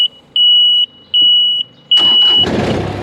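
A John Deere Z997R diesel zero-turn lawn mower gives a series of electronic warning beeps, then its diesel engine cranks and catches, settling into a loud, close idle.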